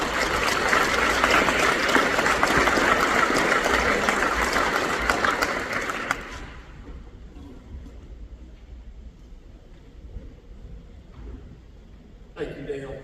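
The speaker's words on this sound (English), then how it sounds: "Please give a warm round of applause and a big Broken Arrow welcome to Lieutenant Colonel Peter Plank." Audience applause at a V-J Day ceremony honoring veterans in Broken Arrow, Oklahoma, a loud, dense clapping that fills the first six seconds and then stops abruptly, leaving quiet room noise and a brief stir near the end.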